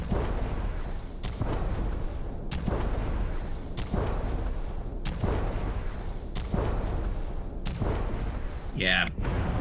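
Weapon in the video game Starfield firing slowly, sharp booming shots repeating at even intervals of about one and a quarter seconds over a dense rumbling bed, loud and close, with a brief warbling tone near the end.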